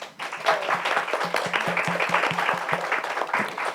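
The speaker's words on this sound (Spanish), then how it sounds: "Fuertes aplausos." An audience at a journalism festival panel applauds, a steady clatter of many hands at moderate distance that holds evenly for a few seconds.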